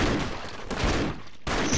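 Seeking bullets fire in the Broforce video game as a dense, loud burst of rapid gunfire that runs almost continuously, breaks off briefly, then resumes.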